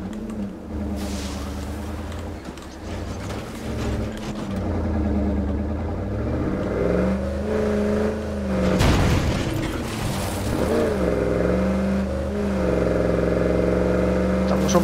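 A car engine hums steadily and revs up and down while driving in State of Decay 2. It stays loud and continuous throughout, with a few rising and falling pitch sweeps and a short thump near the middle.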